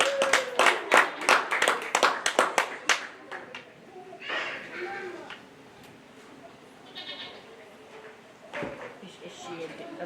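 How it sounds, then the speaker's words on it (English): Applause for a young exhibitor at a county fair dairy goat show, a short burst of clapping followed by goats bleating and arena noise with voices in the background. "So let's go ahead and give her a big round of applause."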